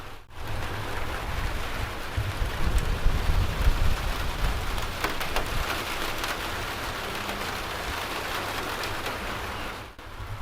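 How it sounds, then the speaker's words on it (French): Light rain falling outside, heard from indoors beneath an insulated ceiling: a soft, steady patter and hiss that stays fairly even throughout, with a low rumbling undertone. "c'est pas évident parce qu'il pleut vraiment pas fort"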